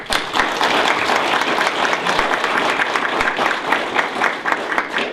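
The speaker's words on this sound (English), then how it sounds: "Join me and just giving them a warm welcome, a round of applause" A crowd gathered for a plaque unveiling breaks into loud, dense applause, many hands clapping continuously and close for several seconds with no break.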